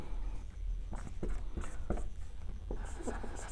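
Pen writing on paper during a maths lesson, heard as quiet, irregular scratching strokes over a steady background hum.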